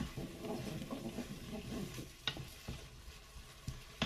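Onion slices fry in a pan with a soft, steady sizzle and a few sharper pops and crackles, close but quiet, with no one talking.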